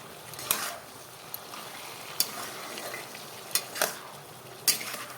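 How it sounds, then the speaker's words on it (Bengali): Spiced potatoes with cumin powder, salt and whole green chillies are stirred and fried in a pan, with a low sizzle under irregular scraping clacks of a spatula against the pan. "সব কিছু দিয়েই আলুটাকে ভালো করে নেড়ে চেড়ে ভাজাটা করে রেডি করে নিই"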